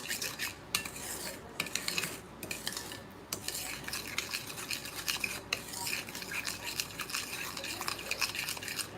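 Batter is stirred in a bowl with a utensil, producing steady soft scraping and clinking strokes, faint and close, with no one speaking.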